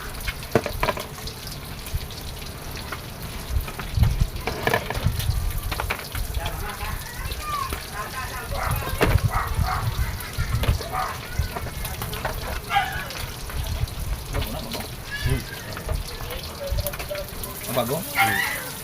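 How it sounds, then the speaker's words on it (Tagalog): Tilapia fish frying in hot oil, a continuous sizzling crackle with bursts of spitting, running under people talking nearby. "Piprito tayo ng tilapia."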